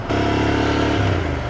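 A 2019 Royal Enfield Interceptor 650 twin revs close up, a smooth, loud engine note that holds steady and then climbs briefly in pitch before easing, with no voices over it.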